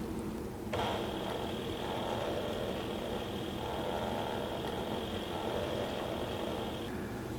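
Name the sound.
Mini Sailrite walking foot sewing machine sewing a reverse back tack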